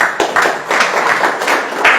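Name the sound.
audience applause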